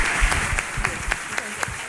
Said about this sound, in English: Let's clap for this.